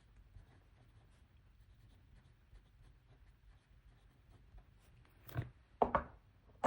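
Pen writing text in a Hobonichi Cousin planner, a faint, close scratching that is barely audible at first and turns into a few firmer strokes and taps toward the end.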